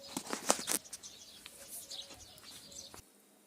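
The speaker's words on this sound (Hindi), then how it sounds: "यहाँ पर हम हमेशा पक्षियों को दाना डालते हैं, तो यहाँ से पक्षी चुग लेंगे।" Birds flapping their wings as they fly in to peck scattered millet grain in a village, a flurry of close, loud wingbeats at first, then lighter flutters and a few soft chirps fading away.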